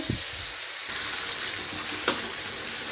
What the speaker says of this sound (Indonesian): Bawang putihnya sudah kekuningan, masukkan cabai yang sudah di blender.